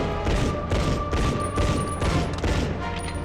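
Grenade blast amid ongoing gunfire in the World War II shooter Medal of Honor Underground, a dense, loud burst of rolling booms and rattling shots layered over steady battle noise.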